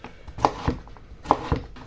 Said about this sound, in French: je découpe tout au maximum